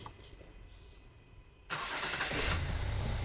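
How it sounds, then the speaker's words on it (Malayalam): A diesel Toyota Etios Liva with a starting fault turns over and catches, going from quiet background to a loud, steady engine running close by, alone with no talk. "ഞാനതൊന്ന് സ്റ്റാർട്ട് ചെയ്ത് കാണിച്ചു തരാം കേട്ടോ."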